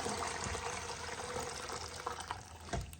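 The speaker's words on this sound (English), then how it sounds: "I'm just gonna pour it over." Hot chicken broth pours steadily through a strainer in a continuous, splashing gush, a broad wet rush that holds for several seconds with a slight surge near the end.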